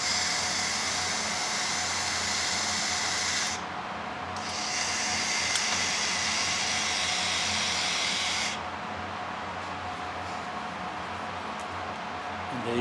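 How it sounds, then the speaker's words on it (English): BAS series ball valve actuator running, a steady mechanical whir with a hissing tone that cuts out briefly, returns, then drops to a quieter hum as the valve closes, heard alone and close. "And when I de-energize it, it will automatically close."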